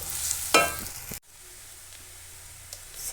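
Sliced onions sizzle and hiss in a hot pan while being stirred for a chickpea (kadala) curry, a loud scraping burst midway then a quieter steady frying crackle.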